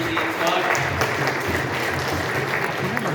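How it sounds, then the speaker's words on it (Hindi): Audience applause ripples through a gathering, a moderate, fairly steady patter of many hands clapping together for a few seconds, with some voices underneath. "जोरदार तालियां श्री"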